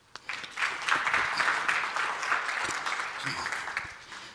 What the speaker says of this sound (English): may we please be kind and give Prof Uche a round of applause.